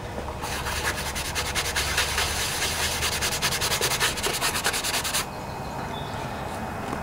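Medium to fine grit sandpaper rubs briskly back and forth on a Briggs and Stratton OHV Intek engine part, a close, rhythmic scratchy sanding that stops near the end.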